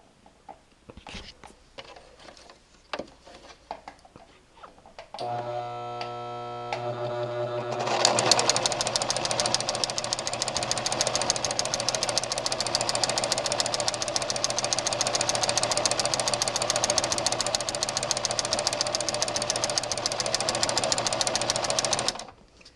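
A Brother LX3014 sewing machine stitches with a twin needle through muslin layered with thicker fiddler cloth, a steady fast mechanical whirr and rapid needle chatter running continuously after a few brief clicks and a short slower start.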